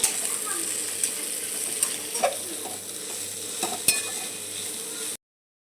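Vegetables with ginger and garlic fry in a pan with a steady, close sizzle, broken by occasional clinks and stirring scrapes before cutting off abruptly.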